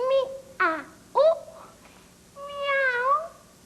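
A cat meows in a 1987 French animated film, giving a series of close, clear calls: two short meows, a brief one, then a longer drawn-out meow, separated by quiet gaps.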